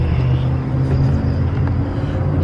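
A Jeep's engine rumbles up close as the vehicle arrives, giving a loud, steady, low idling drone with no speech.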